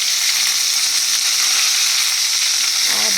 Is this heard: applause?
no